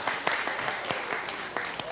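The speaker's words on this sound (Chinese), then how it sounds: "掌声" A church congregation applauding during a joint worship service, a brief patter of scattered hand claps, moderately loud and a little uneven, with a voice audible over it.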